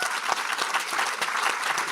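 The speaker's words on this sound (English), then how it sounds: "Let's give a round of applause for our panelists." Audience applause for panelists at the close of a conference plenary session, steady dense clapping from a seated crowd, moderately distant and unbroken, with no voices.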